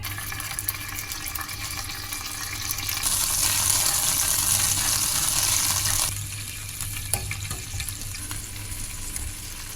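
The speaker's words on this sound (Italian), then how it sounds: "Facciamo un soffritto con olio, aglio, ma soprattutto aggiungiamo subito le alici così da farle sciogliere lentamente" A soffritto of oil, garlic and anchovies sizzles steadily in a pan, with a louder burst of frying and stirring midway before settling back to a gentle crackle.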